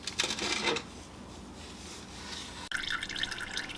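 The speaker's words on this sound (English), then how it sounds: "we have our oil draining now and our oil filter removed" Engine oil draining from a 2016+ Mazda Miata ND into a catch pan, a steady splashing trickle close by, with a short sharp clatter partway through, no talking.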